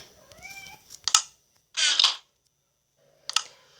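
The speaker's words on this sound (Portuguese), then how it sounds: "Meu gato tá aqui do lado dele. Talvez ele tá fazendo barulho." A pet cat meows close by, a short rising call followed by a longer meow, with light clicks and soft game sounds around it.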